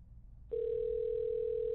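Phone ringing in a video game: a steady electronic tone that starts abruptly, pulses briefly, then holds a continuous ring over faint background hum.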